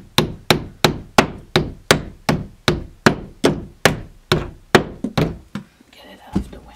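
A hammer drives a finishing nail with about fourteen sharp, evenly spaced blows, loud and close. The strikes come at a steady rhythm and grow slightly irregular near the end before stopping.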